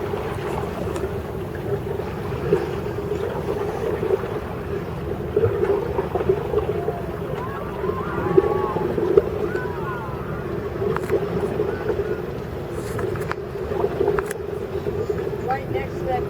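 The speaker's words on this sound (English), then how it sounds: "The gurgling sound you hear was our diesel engine idling in neutral." A boat's diesel engine idles in neutral in a low, steady gurgling drone that carries on throughout, with faint scattered sounds over it.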